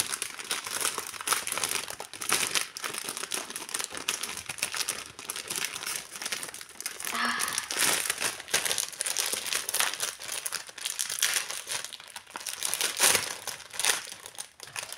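A packet of premium trading cards is torn open, giving continuous close crinkling and crumpling of foil wrapping with sharp tearing bursts throughout.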